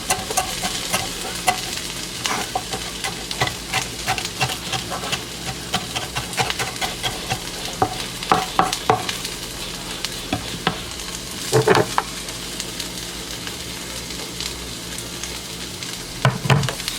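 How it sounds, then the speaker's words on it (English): Potatoes sizzle steadily in a hot pan, with occasional sharper crackles and the scrape of a utensil stirring now and then. "the potatoes are frying"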